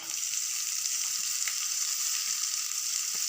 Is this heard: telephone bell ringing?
no